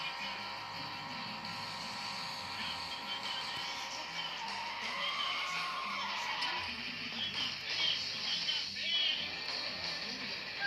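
A Corvette runs at top speed in a car driving simulator game, its engine a steady high drone with tire and road noise, while someone talks over it.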